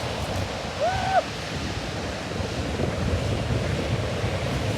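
Large sea waves about four metres high roar and wash steadily ashore, with heavy wind buffeting the microphone throughout and a brief tonal whistle near the start, loud and continuous.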